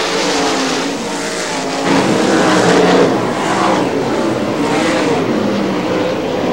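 410 sprint cars racing at Butler Motor Speedway, Quincy, roar continuously and loudly, their engines droning and rising as cars pass, with a brief surge in volume midway.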